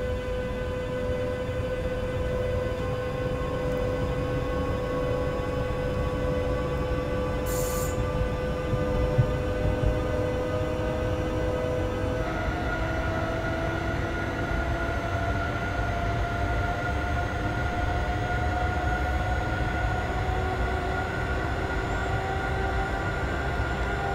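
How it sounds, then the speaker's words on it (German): S-Bahn train pulling away from a stop on the Leipzig to Bitterfeld line in Train Simulator 2020, with a steady rising electric motor whine over continuous rail rumble and no voices. "Da setzt sich unser Zug auch sofort wieder in Bewegung."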